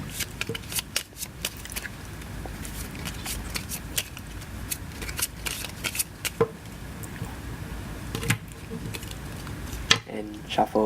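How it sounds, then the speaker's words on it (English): Playing cards being shuffled by hand, a string of quick riffling and flicking bursts that repeat steadily at close range over a murky background hum. "The audience will now shuffle the cards."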